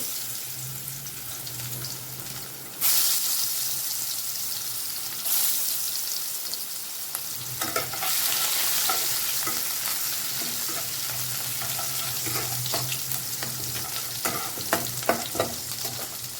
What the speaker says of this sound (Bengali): কালো জিরে ফোড়ন দিয়েছি, এবারে রসুনটা দেব।